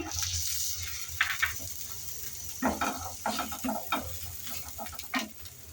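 Fresh grated coconut and peanuts are stir-fried in a pan for a Maharashtrian fasting potato dish, with a faint steady sizzle under repeated scraping and tapping bursts from a spatula, close and moderately loud.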